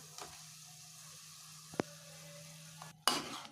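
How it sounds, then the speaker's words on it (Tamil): Cauliflower pieces stirred into thick gravy in a pan, giving soft scraping and stirring sounds over a low hum, with a sharp knock near the middle and a louder clatter of the spoon at the end. "சேர்த்துட்டு நல்லா கலந்து விட்டுக்கோங்க"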